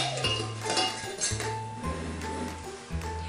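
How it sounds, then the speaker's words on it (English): Plastic lids clicking and snapping onto small containers holding Coca-Cola, a few light clinks and taps close by with quiet background hum, no talking. "And pop the lids on them."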